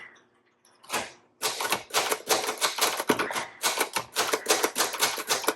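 A 1961 Royal Signet vintage travel typewriter clacks close up as its keys are tested, with one isolated strike followed by a rapid, steady run of loud mechanical keystrokes.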